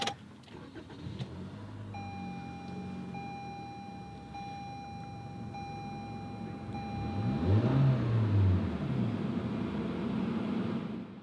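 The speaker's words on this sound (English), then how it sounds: "Let's go ahead and start it up with the switchblade key here." A 2018 Toyota Camry SE sounds a steady electronic chime, then its engine turns over with a swell of noise at about seven seconds and settles into a low, even idle, heard from inside the car.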